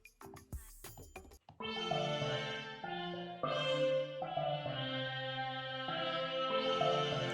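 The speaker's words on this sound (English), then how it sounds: "Let's add a bit of ballad strings." Clicky taps give way to lush layered iPad synth ballad strings and piano chords swelling and changing every second or so, full and close.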